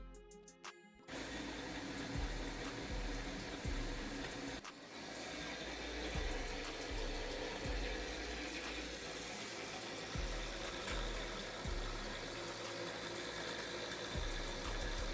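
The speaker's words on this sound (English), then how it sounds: "The sound of the motor is worse now, but it is like this even when it's not under any load." A tiny motor driving 3D printed reduction gears at a 1 to 1446 ratio strains while lifting a weight, giving a steady whirring hum with repeated low knocks and clicks, faint and close, no talking.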